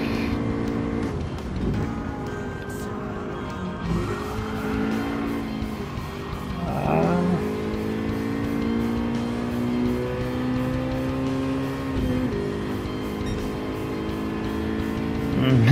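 A Japanese front-wheel-drive sports car in Gran Turismo 7 howls at full throttle, its engine note climbing and dropping through gear changes with brief tire squeal, while someone talks over it.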